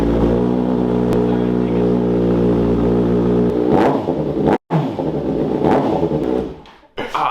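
Motorcycle engine cold start in an indoor room, a loud steady idle hum that breaks into sharp revving bursts with abrupt cutoffs between blips, very close and filling the space.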